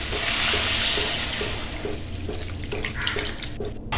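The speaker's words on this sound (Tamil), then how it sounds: "இப்போ கொஞ்சம் தண்ணி சேர்த்துக்கலாங்க." Water pours into a pan of cauliflower curry: a loud, steady rushing splash that eases off after a couple of seconds into softer bubbling and trickling, with no talking.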